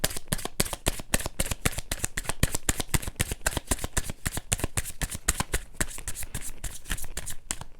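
Tarot cards being shuffled close up, a continuous rapid riffling flutter of card edges snapping against each other in a steady, even rhythm, alone without speech.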